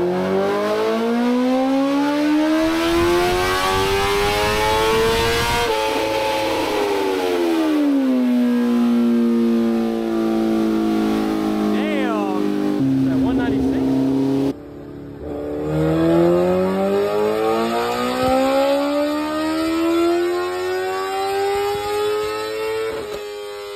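A Kawasaki ZX6R motorcycle revs hard on a dyno, its engine pitch climbing and dropping through several long pulls, loud and close, ending in a final high-pitched run.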